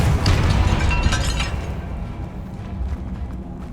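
A booming spell blast in the video game Hogwarts Legacy hits with a broad, loud rush of noise and a rumbling low end that slowly fades over a few seconds.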